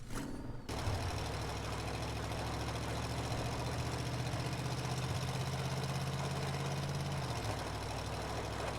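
An angle grinder with a yellow disc runs continuously in the ship-breaking game Ship Graveyard Simulator 2, a loud steady mechanical whine and rumble that starts abruptly after a brief pause and holds evenly, with no talk.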